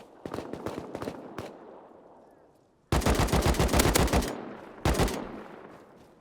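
Video game gunshots in rapid automatic bursts, sharp and loud, a short spray, then a longer sustained string and a final quick burst, with little talk.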